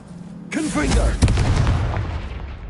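A Confringo blasting curse explodes in the video game Hogwarts Legacy, a sudden booming burst followed by a sharp second impact and a rumbling tail, with a voice speaking over the start of the blast.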